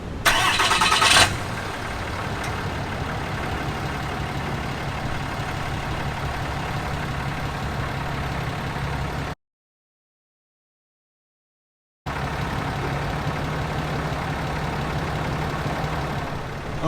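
A RAM 2500 pickup with air suspension starts up with a brief loud crank and catch, then settles into a steady, even idle that hums along, broken by a stretch of silence before the same idle resumes.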